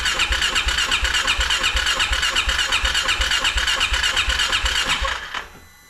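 Polaris Ranger 570 engine cranked over with the throttle body open: a loud, steady, rapid chugging of the starter for about five seconds that never catches, then stops abruptly.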